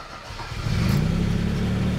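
A 1983 Maserati Biturbo engine starting up: a brief cranking leads into a steady, loud idle rumble that settles and holds close by.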